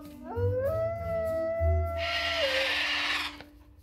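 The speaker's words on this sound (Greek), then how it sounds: "Και κοίτα πως σουρλιάζω." Dug, the cartoon dog from the animated film Up, lets out one long howl that rises and then holds a steady wavering pitch. A brief hissing burst follows near the end.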